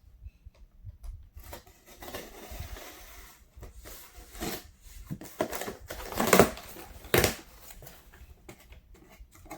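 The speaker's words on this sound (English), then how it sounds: "So let me cut this and see what's in here" A mail package is cut open and handled up close, with scattered rustles, scrapes and crinkles that build into a few louder tearing bursts near the middle before trailing off into quieter handling.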